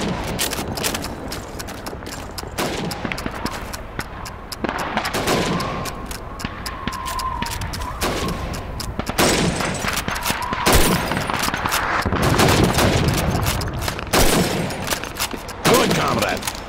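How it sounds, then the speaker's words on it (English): Rifle shots ring out in Call of Duty 2 as helmets are shot against a timer. Sharp single reports repeat at an irregular pace over background battle ambience, with voices speaking at times. "You have 15 seconds to shoot the helmets."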